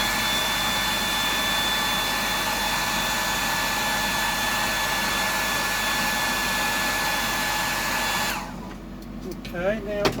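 A hair dryer blows steadily and loudly close by, drying paint on a stencilled green tomato pattern, then cuts off near the end, leaving faint handling noises.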